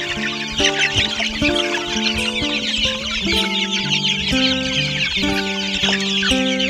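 Hungry chicks peep and cluck as they are fed cheap homemade chick feed, a close, busy flock chattering continuously with overlapping high calls.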